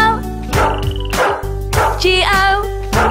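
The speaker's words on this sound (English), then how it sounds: "There was a farmer who had a dog, and Bingo was his name-o" Cartoonish dog barks in the Bingo nursery rhyme, several loud, evenly spaced woofs over a bouncy children's song backing with a sung melody.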